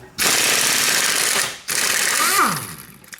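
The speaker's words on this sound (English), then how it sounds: "So we're going to put 19 mil impact gun, and then a 19 millimeter open-ended wrench" A 19 mm impact gun hammers a strut bolt on a Mitsubishi Outlander front suspension in two loud close bursts of rapid rattling, separated by a short gap, the second one winding down.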